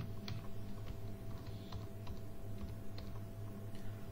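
Quick bursts of keystrokes on a computer keyboard, light clicky taps over a steady hum, close and moderately quiet.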